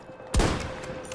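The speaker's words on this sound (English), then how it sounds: "They're just firing shots" Gunfire in Battlefield 2042 during a Breakthrough match: one sharp, loud shot blast with a booming low tail that rings out and decays over about a second, with no talk over it.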